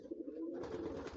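Pigeons at a pigeon market coo in a steady, continuous low murmur, several birds close by with a soft throaty warble and no voices.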